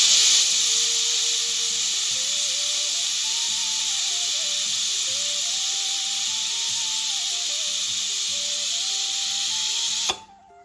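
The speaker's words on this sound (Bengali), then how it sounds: "প্রেশারে বসিয়ে দিয়েছি মাংসটা এখন সিটি পড়লেই হয়ে যাবে" A pressure cooker hisses as it releases steam while mutton cooks inside. The loud, steady hiss runs under a faint rhythmic mechanical whir, then cuts off abruptly near the end.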